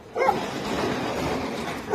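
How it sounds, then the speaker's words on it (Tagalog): A dog barks and yips in a continuous, agitated burst nearby, with a slightly muffled, roomy tone. "May mga aso pa."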